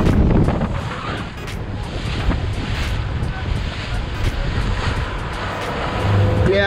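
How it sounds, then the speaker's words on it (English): Strong wind from a storm brewing 30 to 35 miles offshore off Guam, roaring loudly and continuously across a fishing boat with waves washing and buffeting the microphone. "There's a nice little storm brewing up here."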